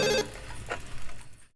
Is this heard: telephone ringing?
yes